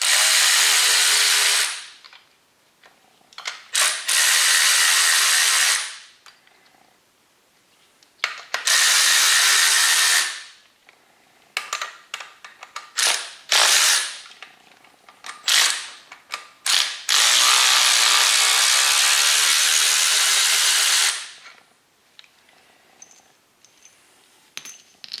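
An electric power tool, probably a cordless ratchet or impact driver, removes the intake and exhaust hardware from a used engine for a 2013 STX 15F. It runs in several loud whirring bursts with clinks and handling noise between them.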